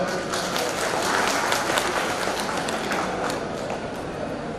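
Applause from a family reunion gathering in Karukappadam, Kodungallur, steady sustained clapping from many hands, dense and continuous for several seconds, fairly close.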